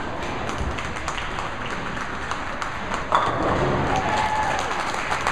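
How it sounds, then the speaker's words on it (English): A crowd at a girls' scratch bowling tournament final breaks into applause and cheering, a broad clapping wash that swells midway, with a commentator's voice running beneath. "another quality shot brings a ovation from that side of the crowd"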